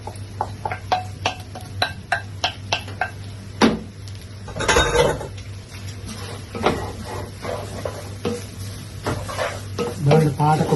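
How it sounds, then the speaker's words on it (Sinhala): A spiced mixture is stirred into a pot for steamed string-hopper biryani, giving a quick series of clinks and scrapes of a utensil against metal, with a brief sizzle and some background noise. "දැන් අපි මේ හදාගත්ත මික්සර් එක මේකට කලවම් කරනවා."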